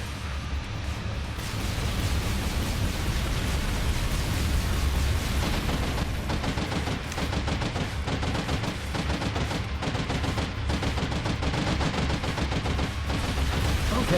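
Guns on a capital ship in the space combat game Angels Fall First fire as a continuous loud barrage of rapid shots and booms, steady and dense throughout with no voices.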